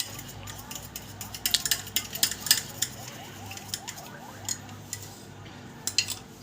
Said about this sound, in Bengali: আর একটু নাড়াচাড়া করতে হবে। এই যে নাড়াচাড়া।